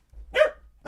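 Dogs bark close by at home, a short loud bark followed by the start of another.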